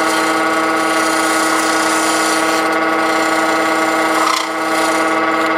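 Wood lathe spinning a pen blank on metal bushings while a chisel cuts and shapes it, a loud steady whine with continuous scraping and rubbing, briefly dipping near the end.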